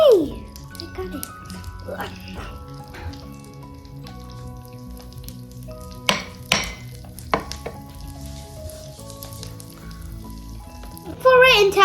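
Heart-shaped waffle batter sizzles softly in a waffle maker while a voice and light background music play over the gentle frying hiss.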